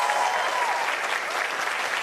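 A TV talk-show studio audience applauds the show's panel of women journalists, a steady, even burst of clapping from a full crowd filling the room.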